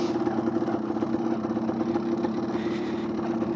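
A 1993 Yamaha DT175 two-stroke dirt bike engine braking in gear in the Australian bush, giving a steady, buzzy drone with an even pulsing throb, close and constant throughout, with no one speaking.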